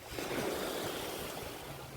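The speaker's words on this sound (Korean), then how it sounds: "이 바람 왜 이렇게 세냐" Strong sea wind roars steadily across the microphone during a fishing outing on the coast, a dense, continuous rush with surf-like swells, loud and unbroken for the whole moment.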